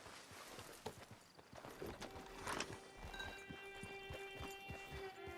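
Horse hooves clip-clop steadily on the ground in Red Dead Redemption 2, a regular walking rhythm of soft thuds under a faint tonal background hum, with no voices.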